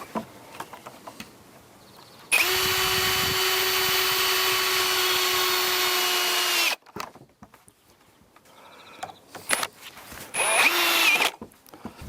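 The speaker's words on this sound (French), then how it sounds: "je bascule la banquette et on va visser les roulettes" A power drill drives screws to fix casters onto a pallet bench: one long steady whine of about four seconds, then a shorter burst, with clunks and handling knocks around them, close and loud.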